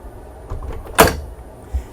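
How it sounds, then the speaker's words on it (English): A door is opened aboard a Kando 110 explorer superyacht, leading from the crew area toward the engine room: soft handling noises build to one sharp latch clack, followed by a quieter thud. "Now we're going to open this door up"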